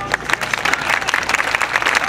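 Steady applause from an outdoor crowd after a street magic performance at a street performance festival in Shizuoka, dense clapping throughout with a faint voice underneath.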